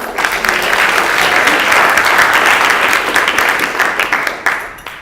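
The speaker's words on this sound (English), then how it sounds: "a special round of applause for our judges" A crowd at a startup pitch competition claps loudly and continuously for the judges, the dense applause holding strong before tapering off toward the end.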